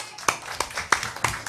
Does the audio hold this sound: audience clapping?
yes